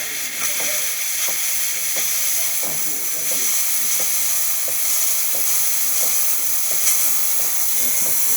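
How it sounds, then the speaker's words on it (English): A DeLonghi Magnifica coffee machine's steam wand hisses steadily and loudly, with faint rhythmic pump clicks underneath, close up and without talk. "then we're going to test the steam function"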